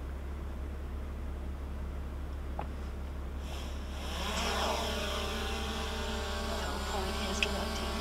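DJI Mavic Air 2 drone lifting off in an auto takeoff, its propellers rising into a steady high whine with harmonic bands after a quieter start, close and continuous over a constant low hum.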